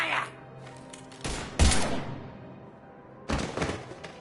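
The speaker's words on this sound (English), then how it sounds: "Now open fire!" Bursts of gunfire from the video game Mass Effect 3, with a sharp volley around the middle and another burst near the end, separated by decaying echoes and background game noise.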